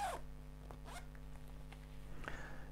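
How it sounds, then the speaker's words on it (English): Several quick, raspy zipper strokes from a sage Van Rysel long-sleeve cycling jersey as it is zipped back up. They are close but quiet, over a steady low background hum. "just re-zip that up"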